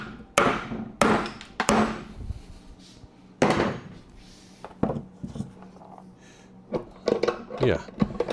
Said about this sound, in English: so we need a bigger hammer